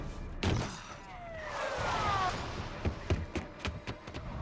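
Glass shatters sharply in the Alan Wake video game, a bright crash followed by a lingering tinkle of shards and a few lighter clinks and thuds afterward.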